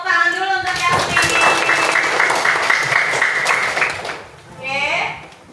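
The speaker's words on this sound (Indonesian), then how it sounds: "kasih tepuk tangan dulu untuk Yasmin." A classroom of students claps for a classmate who answered correctly during a lesson, a dense burst of applause lasting several seconds under a teacher's voice, fading out before a brief closing rise.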